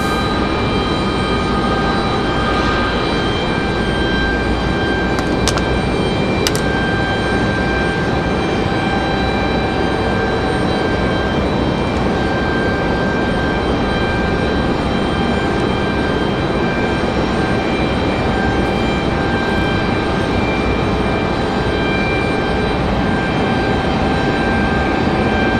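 Steady roar of an arriving airliner at Raleigh-Durham airport, likely a jet moving past the terminal, broad and continuous at moderate loudness with a faint high whine and no talking.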